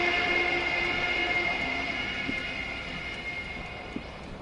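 A Caprice Canema motor carriage rumbles steadily with a tonal, rail-like whine and hum, loud at first and easing slightly, with a faint knock near the end.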